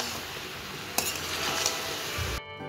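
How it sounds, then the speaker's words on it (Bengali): Mixed vegetables are stirred in a cooking pan, a soft scraping and clinking of a utensil against the pan over a steady faint sizzle, ending abruptly. "তো দেখো এখানে এইভাবে নাড়াচাড়া করতে করতে আমি সবগুলো আরেকবার মিক্স করে নিলাম।"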